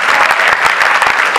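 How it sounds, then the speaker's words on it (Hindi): An audience at a Hindi youth poetry gathering, a kavi sammelan, breaks into loud, dense, sustained clapping that fills the whole moment with a close, vigorous roar of hands. "एक बार जोरदार ताली बजा दो उसके लिए"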